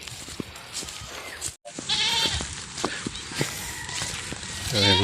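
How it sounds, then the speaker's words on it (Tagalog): Several Nubian goats bleat in short, wavering calls, some close and loud, others farther off, over a busy outdoor farm background with a brief break near the start. "Nubian. Kambing oh."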